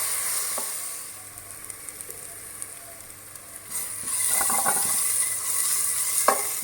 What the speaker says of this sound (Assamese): আদা নহৰু কেঁচা ভাৱটো যোৱালৈকে গেছটো মিডিয়াম ফ্লেমত দি পেলাই ভালদৰে ভাজি ল'ব